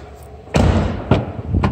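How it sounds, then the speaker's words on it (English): Trunk lid of a 2016 Nissan Altima 2.5 S opening, a dull thump followed by two more heavy thuds close by, with no talking. "Open up the trunk."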